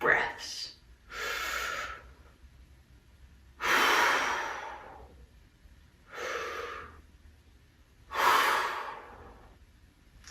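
Five deep, clean breaths drawn and released in preparation for trombone playing, each a loud, close, airy rush separated by short pauses, with no talking.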